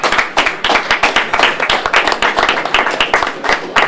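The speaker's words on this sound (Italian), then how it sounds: "gli facciamo un applauso" An audience applauds a guest at a film soundtrack event at Cinemarcord 2023: loud, close clapping from many hands with sharp, uneven rhythmic claps that stay steady for about four seconds, no talk over it.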